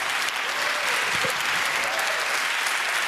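An awards-ceremony audience breaks into dense, sustained applause, a loud wash of clapping filling the whole stretch.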